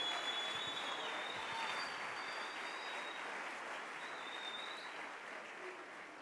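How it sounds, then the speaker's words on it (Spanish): Steady congregational applause at a church worship service, a dense continuous patter of many hands held at an even level throughout, moderately distant with a faint tonal hum above. "Dale un aplauso al Rey bendito."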